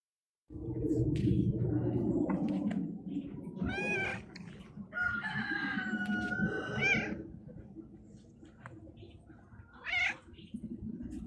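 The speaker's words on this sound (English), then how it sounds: "I hear the chickens in the background" Outdoors, chickens call in the background, with several short, strained, wavering vocal bursts rising above a low outdoor rumble and a quieter stretch between calls.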